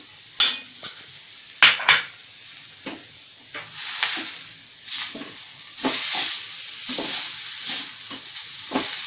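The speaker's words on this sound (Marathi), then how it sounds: "गूळ वितळेपर्यंत हलवत राहायचं सारखं।" Jaggery being stirred in a large pan or bowl until it melts, with a spoon scraping and clinking against the metal in irregular strokes, some sharp knocks, and a light sizzle beneath, no talking.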